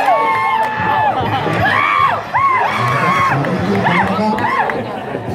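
Spectators at a 2018 Loy Krathong sky lantern release contest at Wat Phra That Hariphunchai in Lamphun cheer and yell close by. Rising whoops and shouts stand out over steady crowd chatter.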